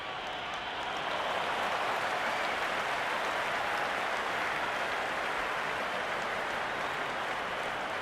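A cricket crowd at an India versus Pakistan match breaks into applause, a broad roar of clapping that swells after a second and stays loud and sustained.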